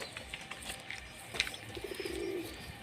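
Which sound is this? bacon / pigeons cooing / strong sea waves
pigeons cooing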